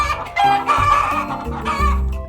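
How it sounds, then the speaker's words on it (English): Chicken clucking on a farm, loud and close, in a few short bursts of clucks and cackles with no talking. "I see a clever chicken looking at me."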